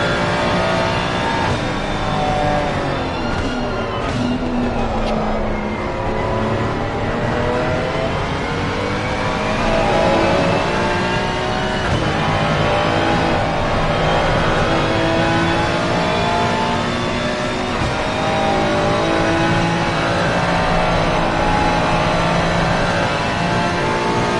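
A Ferrari 296 GT3 racing at Bathurst in a sim racing game howls continuously from an onboard view, its loud engine note sweeping up and down through repeated gear changes for over twenty seconds.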